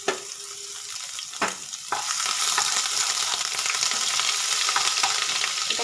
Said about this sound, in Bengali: পাঁচফোড়নটাকে হালকা করে ভেজে নেব।